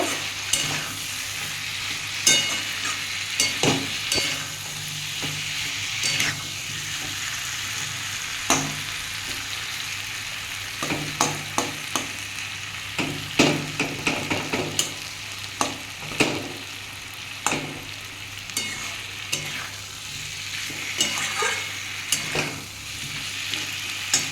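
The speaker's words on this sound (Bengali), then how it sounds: "দিয়ে বন্ধুরা এটা ভালো করে কষিয়ে নেব" Vegetarian soybean curry sizzles quietly in a pan while a spatula scrapes and knocks against the metal in an uneven series of clicks, busier in the middle stretch, with no talk.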